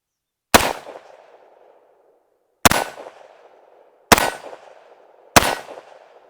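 Four single gunshots from a Tommybuilt T7, an MP7 clone, each a sharp loud crack with a ringing metallic decay, spaced unevenly over several seconds with silence between, no speech.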